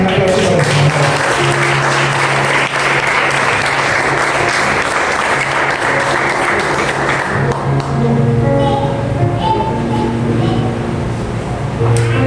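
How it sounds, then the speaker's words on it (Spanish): Heavy congregational applause in a church service, loud and continuous for several seconds, then thinning as sustained instrumental tones and murmuring voices carry on underneath. "Un aplauso para el Señor"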